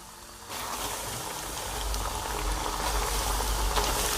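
Floured pieces of Albanian-style liver fry in hot oil, giving a dense, steady sizzle that jumps louder as the pieces hit the oil and keeps bubbling. No voices are heard.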